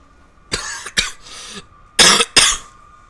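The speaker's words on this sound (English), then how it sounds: "Sorry for all the coughing." Several sharp, raspy coughs from one person close by, a few separate bursts with short pauses between them and a harsher pair near the end, alone with no talk.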